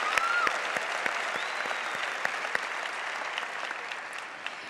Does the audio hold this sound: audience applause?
yes